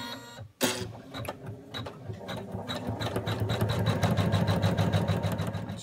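An embroidery machine stitches an ear outline on black cotton held in a hoop, running a fast, steady, rhythmic needle clatter that settles in after a brief start and continues close and fairly loud.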